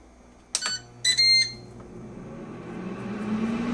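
A Ninja air fryer control panel beeps as the cooking timer is set for fries, two short bright electronic tones close up, followed by the low hum and whir of the fan.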